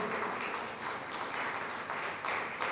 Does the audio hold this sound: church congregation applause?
yes